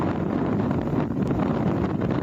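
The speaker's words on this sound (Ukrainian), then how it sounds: "Сильний вітер збиває з ніг." Strong wind roars across snowy Carpathian highlands during a sudden spring blizzard, a dense continuous rush buffeting the microphone with no pauses.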